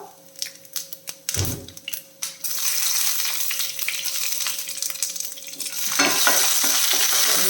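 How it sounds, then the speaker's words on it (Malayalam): Curry leaves dropped into hot oil, with a few scraping stirs and clinks of a spoon against the pan at first, then a sudden loud, steady crackling sizzle that swells near the end. "ഇപ്പം ഇതിന് കറിവേപ്പില ചേർത്ത് കൊടുക്കാം"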